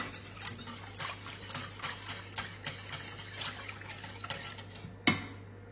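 A spoon stirs macaroni and cheese in a pot, giving soft repeated scraping and clinking strokes at close range, ending in one sharper knock of metal against the pot rim.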